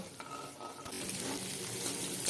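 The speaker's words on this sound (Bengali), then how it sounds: "একই তেলে একটা ডিম ফাটিয়ে দিয়ে আর তাতে পরিমাণ মতো লবণ দিয়ে ডিমটা ভালো করে ঝুরি ঝুরি করে ভেজে নেব" Egg scrambled and fried in oil in a pan, a continuous close sizzle with stirring and scraping as the egg is broken up into crumbles.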